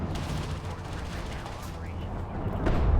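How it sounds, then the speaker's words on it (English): An artillery cruiser in a strategy video game fires artillery rounds in a dense, continuous barrage of booming shots that swell louder toward the end, with a voice talking underneath. "Oh yeah, that's the artillery rounds."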